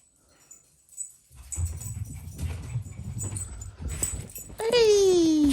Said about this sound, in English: The entry of the doggies.